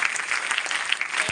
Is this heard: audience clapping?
yes